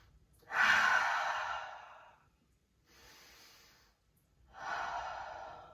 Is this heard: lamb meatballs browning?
no